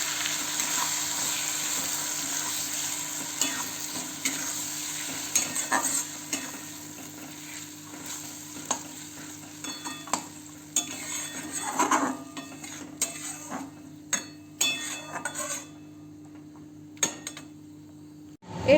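Spices sizzle in a pan for a matar baby corn dish, a continuous hiss overlaid with frequent scrapes and clinks of a spatula stirring against the metal.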